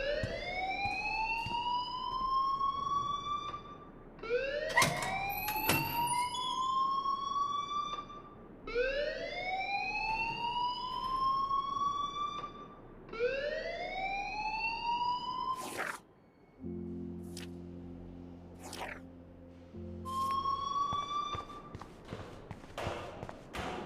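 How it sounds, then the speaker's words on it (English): A fire alarm in the Life is Strange video game wails in repeated rising electronic sweeps, about one every four seconds. Midway through there is a brief pause filled by a low hum, then the alarm resumes. "please turn off that alarm since that's your job"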